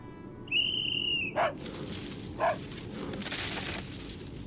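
A whistle blows, then a dog barks twice in the Grim Facade 2 video game. The whistle is a long, steady tone and the barks are two short, separate yips at mid distance over a faint crackling background.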